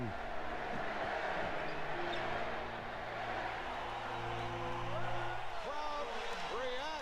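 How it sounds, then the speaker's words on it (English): Basketball crowd in Portland giving Larry Bird a standing ovation: a steady, loud roar of cheering and whoops from a large arena audience, with a voice talking over it and faint music. "Crowd reacts to the entrance of Larry Bird. A standing ovation."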